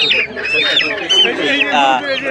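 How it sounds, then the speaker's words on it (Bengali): Ducks and chickens at a busy village poultry market in Bangladesh before Eid, with close, overlapping honking quacks and clucks that run throughout, layered with crowd noise. "এইদিকে প্রচুর হাঁস মুরগি কিন্তু আমরা দেখতে পাচ্ছি বাজারে নিয়ে আসছে"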